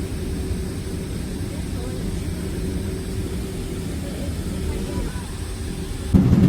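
A Delta Air Lines airliner departing London Heathrow, heard from inside the cabin as a steady, even roar of engine and airflow noise that holds constant throughout, with a brief louder bump near the end.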